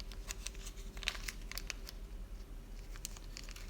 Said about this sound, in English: Put some Teflon tape on there and shove them in.